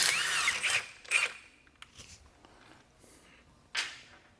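Milwaukee M18 impact wrench pulling wheels off, a few sharp bursts of hammering near the start and another short burst near the end, loud and close, with quieter handling noise between.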